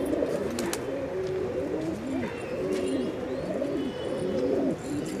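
A female pigeon of a good flying breed, white and black eyed with white flight feathers, coos in repeated rolling phrases close by, steady and clear against a quiet background.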